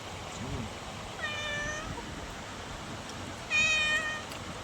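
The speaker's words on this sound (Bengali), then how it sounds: "বিড়াল ম্যাও ম্যাও করছে যে খাওয়ার জন্য।" Two drawn-out meows from a cat begging for food, about two seconds apart, clear and fairly close, over a steady low background hum.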